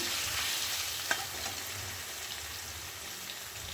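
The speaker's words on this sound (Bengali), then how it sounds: "পনিরগুলোকে আগে একটু হালকা তেলে ভেজে নিচ্ছি" Paneer pieces fry in a little oil seasoned with salt and turmeric, a steady, moderately faint hiss of sizzling with one sharp tap partway through and no voices.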